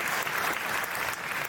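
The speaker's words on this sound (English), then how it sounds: "Was that applause for her or for me?" A Star Trek convention crowd in Las Vegas applauds in a steady, distant-sounding wash of clapping that lasts the whole moment, with no voices standing out.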